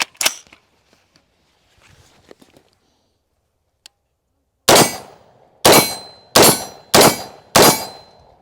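An AR-15 rifle, a Fostech Raptor, fires five sharp gunshots in fairly quick succession after some quiet handling clicks, each report loud and close with a brief ringing decay.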